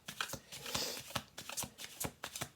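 A deck of playing cards being shuffled close by, with a quick run of crisp riffling bursts and flutters repeating over a few seconds and no talking.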